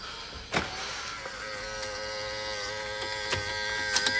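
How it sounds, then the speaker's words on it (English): Electric folding door mirrors on a car whir inward as the vehicle locks, a steady close motor hum with a few small clicks and knocks along the way. "electric folding mirrors, and they fold in when you lock it as well"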